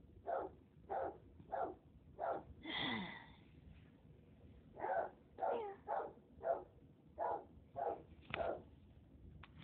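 A young, partly trained dog barks about a dozen times at a fairly even pace in a quiet room. The barks are moderately loud and close, with one longer, strained yelp near the start and no talking.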